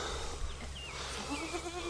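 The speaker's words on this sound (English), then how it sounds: "Oh, it's a wet baby goat." A wet baby goat on a farm bleats in thin, wavering cries, close and fairly faint over a steady low background hum.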